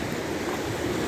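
A river by Bridge of Orchy in the Scottish Highlands rushes in a dense, continuous wash of flowing water, steady and close, with no voices.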